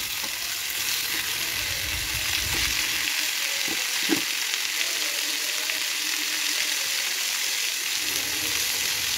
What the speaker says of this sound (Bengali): পেঁয়াজগুলো একটু ভাজা হয়ে গেলে দিয়ে দেব মটরশুঁটিগুলো আর কেটে রাখা টমেটো কুচিগুলো দিয়ে ভালো করে নেড়ে চেড়ে নেব